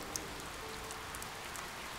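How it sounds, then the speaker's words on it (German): Steady rainfall in the video game Die Gilde 3, an unbroken soft hiss of drops on surfaces with occasional sharper patters, no voices present. "Andauernde Regenfälle sorgen für Überflutungen."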